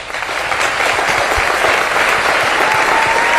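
Loud, sustained applause from an audience at a presidential campaign event in Pennsylvania, with steady clapping filling the space and a few cheers mixed in.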